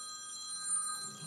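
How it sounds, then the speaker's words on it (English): A telephone bell rings steadily on its own, a bright sustained electronic trill with no voices over it. "Oh, that was someone ringing with the answer."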